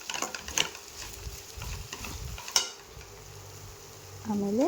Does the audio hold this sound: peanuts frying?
yes